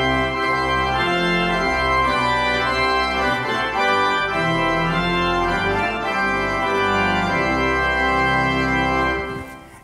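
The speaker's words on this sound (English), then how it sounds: "The second, called Miles Lane, was composed by William Shrubsole in" Miles Lane, a hymn tune by William Shrubsole from 1779, played as rich sustained keyboard or organ chords in a measured stately progression, loud and continuous, trailing off at the close.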